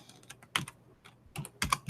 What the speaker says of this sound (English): I'm also using my arrow keys to move up and down, backward and forward here.